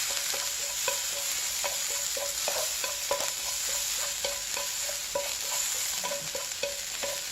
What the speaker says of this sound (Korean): 설탕이 들어갔기 때문에 이렇게 타지 않게 적절하게 잘 볶아주세요.